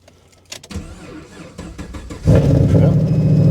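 An old engine cranks with a few sharp clicks and a stuttering turnover, then catches and settles into a loud, steady idling rumble close by.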